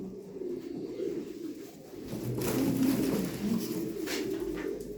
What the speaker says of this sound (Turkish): Şimdi biz bu kuşları daha önce uçurup oynatmışız